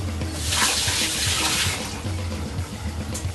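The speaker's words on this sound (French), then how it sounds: "Je passe une fois à l'eau." Tap water running steadily into a sink as something is rinsed under it, a close, continuous splashing rush that swells briefly and then settles.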